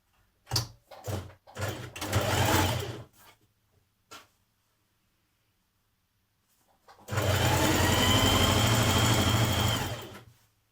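A domestic sewing machine stitches the centre back seam of a dress, first in several short stop-start bursts, then after a quiet gap in one long, loud continuous run.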